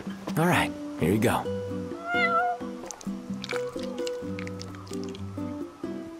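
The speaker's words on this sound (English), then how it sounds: "You're one spoiled cat." A cat meows twice in Final Fantasy XV, two loud, close, rising-and-falling cries at the start, followed by a brief chirpy call over steady game music.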